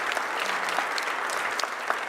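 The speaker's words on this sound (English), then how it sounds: "So I just want another big round of applause for these awesome musicians." A board of education meeting audience gives a big round of applause for young musicians, with many hands clapping steadily and densely and a few sharper claps standing out near the end.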